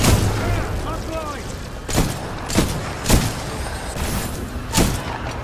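Heavy gunfire booms from the shooter game Titanfall 2, with several separate loud shots spaced about a second apart over a dense layer of game noise, with talk running underneath.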